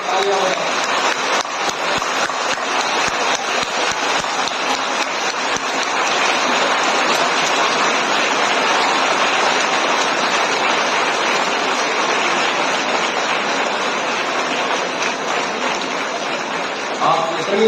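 A large school audience of students, principals and teachers at a felicitation ceremony claps continuously, a dense, rain-like roar of applause that stays loud and steady for the whole stretch.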